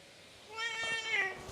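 A pet cat named Rocky gives a single drawn-out meow, clear and close, with a rising then falling tone in an otherwise quiet room.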